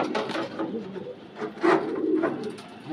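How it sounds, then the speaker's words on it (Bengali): Andhra Kalanka pigeons in a pigeon loft give several soft, throaty coos close by, with small wooden knocks between them. "ভাইয়ের লফটের আরেকটা কালাঙ্কা পায়রা আমরা দেখছি"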